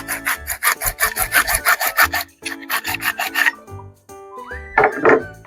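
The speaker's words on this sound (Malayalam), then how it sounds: "ഇതിൻ്റെ ഈ സൈഡ് നമ്മൾ കട്ട് ചെയ്ത് കൊടുക്കുകയാണ്" PVC pipe being cut along its side with a saw, rapid rhythmic rasping strokes in close bursts with short pauses and a brief squeak near the end.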